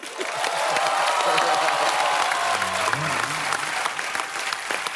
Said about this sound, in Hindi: तालियों की गड़गड़ाहट।